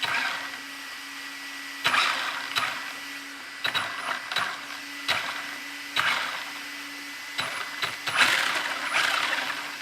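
Freshly greased 124017 RC car differential running and bedding in, giving a steady mechanical whir with repeated gear ratcheting bursts and clicks, close and moderately loud, with no voices.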